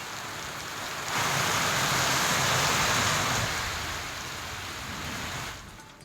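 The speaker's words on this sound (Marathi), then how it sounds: "कोकण घाटमाथ्यावर जोरदार पाऊस सुरू आहे" Steady heavy rain roars as a dense, continuous hiss, swelling louder in the middle before easing slightly toward the end.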